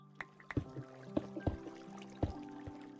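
Water poured from a bucket in Minecraft makes soft, sparse liquid plops and drips, several separate splashy hits spread over a few seconds, fairly close and quiet with no talking.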